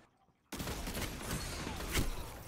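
The Malfeasance hand cannon fires in Destiny 2 PvP: after a brief quiet moment, a loud burst of gunfire erupts and continues as rapid shots and impacts, with a sharp peak near the end.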